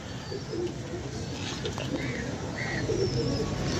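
Pigeons coo softly among a dense, steady background hum, with occasional chirps and a faint murmur of voices nearby.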